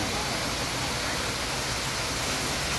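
A waterfall at Suan Kaew temple roars as a steady, broadband rush of falling water, loud and close with no pauses.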